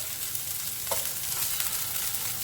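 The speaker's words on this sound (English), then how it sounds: "You want to move the balls around the pan so they get browned on all sides" Meatballs brown in olive oil in a pan, a steady close sizzle and crackle with a brief scrape as they are moved around.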